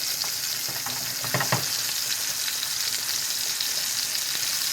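Meatballs fry and brown in a pan with a steady, close sizzle, broken by a few brief stirring clatters near the start.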